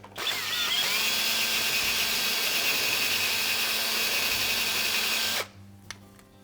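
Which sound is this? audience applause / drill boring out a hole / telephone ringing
drill boring out a hole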